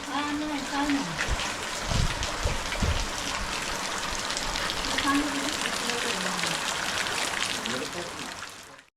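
Rain falling outdoors during house cleaning before Ganesh Chaturthi, a dense steady patter filling the background while people talk over it.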